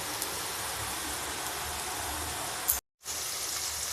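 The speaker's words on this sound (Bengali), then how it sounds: "তো আমি মাংস রান্না করার জন্য পেঁয়াজ দিয়ে দিচ্ছি তেলের মধ্যে।" Onions frying in plenty of oil at the start of a beef bhuna khichuri, a steady, even sizzle that drops out briefly near the end and then resumes, with no talking.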